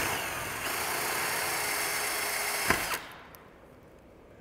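A power drill whines steadily while cutting a 3/4 inch knockout hole for solar panel wiring, running for nearly three seconds before stopping abruptly, leaving a quieter hum behind.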